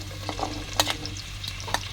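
Onion fries with cumin in hot oil in a pan while cauliflower chukka is being cooked, giving a steady close sizzle with a low hum underneath and a few sharp stirring scrapes.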